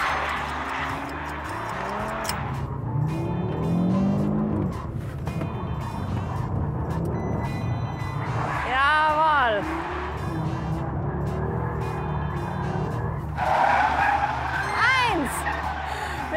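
Audi car drifting sideways at speed: repeated bursts of squealing tires over a loud, rising engine roar, with the car swinging close and then away, and people talking over parts of it.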